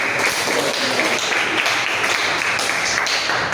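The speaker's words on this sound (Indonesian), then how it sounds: "Kita beri tepuk tangan dulu." Classroom students clapping together, a steady dense patter of many hands filling the whole stretch at moderate loudness with no talk over it.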